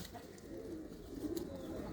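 Low, rounded pigeon coos repeat steadily at close range, soft and throaty, with no voices.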